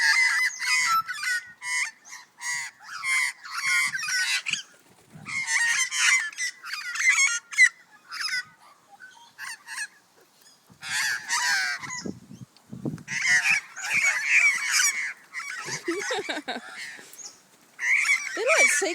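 Magpies squawk in harsh, gull-like bursts while feeding, a run of loud, raspy calls in repeated clusters with short gaps, close by and mostly unaccompanied by talk.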